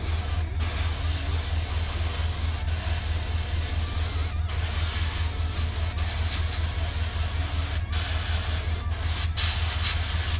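Airbrush spraying primer onto a miniature figure, a steady close hiss held throughout with brief breaks where the trigger is released.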